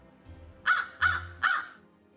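A black crow caws three times in a dark outdoor area, harsh evenly spaced calls close by over a quiet low background hum.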